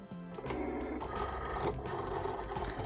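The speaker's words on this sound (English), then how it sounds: "I'm going to load my mat into my Cricut" Motorized whirring and grinding from a Cricut cutting machine drawing in a cutting mat, a continuous close mechanical drone with shifting rattles and no voices.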